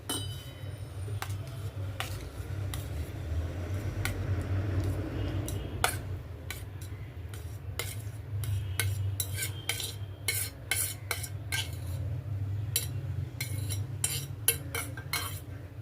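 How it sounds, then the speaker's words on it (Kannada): Ripe mango pulp being mashed in a bowl for a sweet rice offering, with soft squishy stirring under repeated light clinks of a spoon against the bowl, steady and close. "ಮಾವಿನ ಹಣ್ಣಿಂದು ಇದನ್ನೇನು ಸ್ವಲ್ಪ ಮ್ಯಾಶ್ ಮಾಡ್ಕೊಳ್ಳೋಣ."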